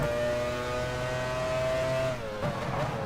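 Race car engine in the F1 Challenge 99-02 video game during the 1999 British Grand Prix, a sustained high engine whine holding steady then dipping briefly, loud and continuous with no talk.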